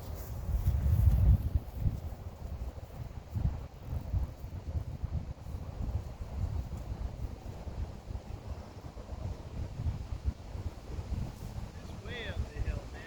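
A strong headwind buffets the microphone on a hilly disc golf course, with gusty low rumbling that swells loudest early, then keeps roaring unevenly throughout.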